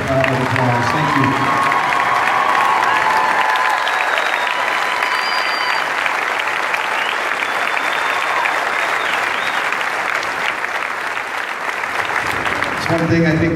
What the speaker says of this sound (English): would you also please stand so we can thank you with a generous round of applause